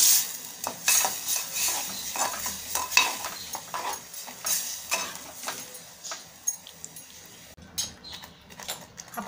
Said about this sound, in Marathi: आपण जे वाटलेलं वाटण आहे ते टाकूया आणि परतवून घेऊया।